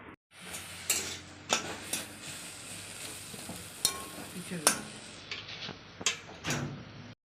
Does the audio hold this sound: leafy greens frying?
yes